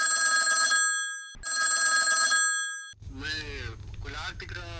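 A telephone rings loudly with two long bursts of bright electronic ringing separated by a short gap, then speech begins over a low hum as the call is answered.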